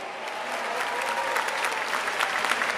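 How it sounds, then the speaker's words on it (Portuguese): An audience at a solemn ceremony honouring the King of Nigeria claps for itself, a dense, steady wash of applause that holds evenly throughout. "If you know you are happy, clap for yourself."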